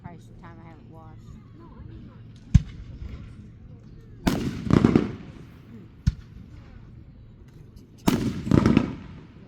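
July 4th fireworks burst outdoors in three loud booms a few seconds apart, each followed by crackling, with people talking in the background.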